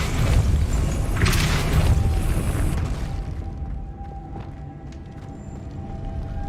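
Depulso spell effect in the video game Hogwarts Legacy, a loud booming blast that rumbles for about three seconds, then fades into a quieter ambient hum.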